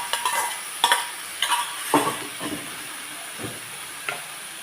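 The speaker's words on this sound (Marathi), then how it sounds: "गॅस बारीक करून घेऊ तर हे शिजवून घेतलेला खिमा आपण टाकून घेणार आहोत" Cooked mutton mince is tipped into a pan over low gas and stirred, a soft hiss under a few distinct scraping strokes of the spoon that come in bursts and then fade to quieter stirring.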